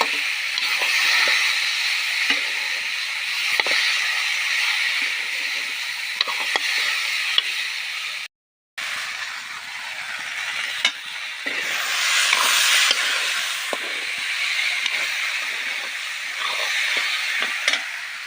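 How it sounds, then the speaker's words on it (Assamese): Shrimp frying in a pan make a steady, close sizzling hiss that runs nearly unbroken, with faint stirring scrapes and one brief gap partway through. "চিঙৰা ভাজি আছোঁ"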